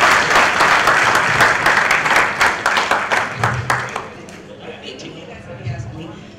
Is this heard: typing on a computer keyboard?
no